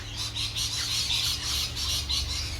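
Several birds squawk in a steady, noisy chorus of repeated harsh calls, fairly close, over a low constant hum.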